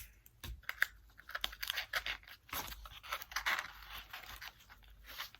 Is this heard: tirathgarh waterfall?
no